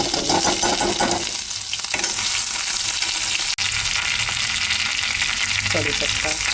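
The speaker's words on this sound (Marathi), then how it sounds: "1 चम्मच तेल घाला, अर्धा टीस्पून राई, अर्धा टीस्पून जिरं घाला आणि असं भाजून घ्या।" Mustard seeds, cumin and ginger garlic paste fry in hot oil in a kadhai, giving a loud, continuous sizzle with one sharp click midway.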